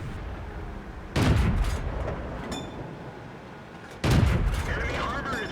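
Loud tank cannon shots in a tank combat video game on a desert map, two heavy booms about three seconds apart, each with a long rumbling tail over a steady background drone.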